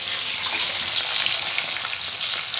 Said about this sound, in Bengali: এবার দেওরের ভাতটা যা নিয়ে যাবে, সব মাছ ভাজা করছে